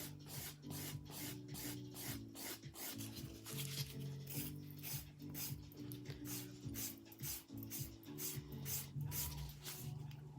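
A 180 grit nail file works lightly over fingernails, soft repeated rasping strokes in a steady rhythm, close but quiet, with a low tonal hum underneath.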